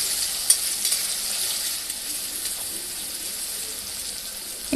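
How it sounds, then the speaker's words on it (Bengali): Dried chillies, bay leaf, cinnamon, cardamom and crushed garlic stirred in hot oil, a soft steady sizzle with faint scraping stirs and an occasional light clink. "ভালো করে নেড়ে চেড়ে নেব।"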